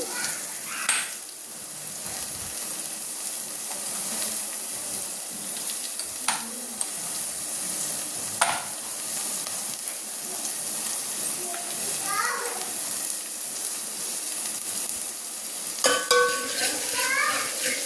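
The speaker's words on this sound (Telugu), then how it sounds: "పచ్చిమిర్చి కూడా ఒకసారి వేయిద్దాము." Green chilies sizzling in hot oil in a pan on low heat, a steady soft hiss with occasional stirring clinks, while someone speaks over the cooking.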